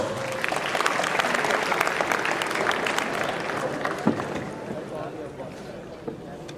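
Sustained applause from an audience at a school farewell function, steady and fairly loud, fading slightly toward the end, with voices mixed in.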